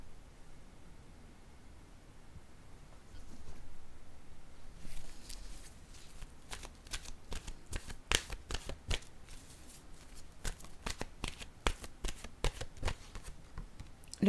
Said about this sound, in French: Je vais piger une carte maintenant.